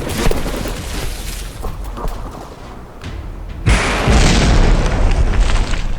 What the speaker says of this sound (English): I come over here, use the explode tool to